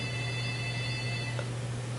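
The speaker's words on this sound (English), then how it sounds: "my phone is ringing again" A phone rings indoors during a Photoshop texture tutorial, a faint, steady electronic tone sitting over a constant low room hum with no talking.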